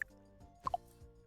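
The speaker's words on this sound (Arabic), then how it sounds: "في حنفية شغالة" A few soft drips from a running tap, scattered plops at irregular intervals, fairly close and quiet over a faint hum.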